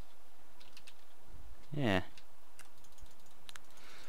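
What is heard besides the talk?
rapid computer clicking and typing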